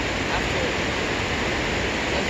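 A waterfall in Quebec roars as a steady, dense wash of broadband noise, close and loud, with no let-up and no voices over it.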